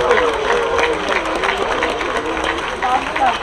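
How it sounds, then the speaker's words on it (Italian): Concert audience applauding at a comics convention show, a dense continuous wash of clapping with some crowd noise mixed in, steady and fairly loud throughout. "applauso."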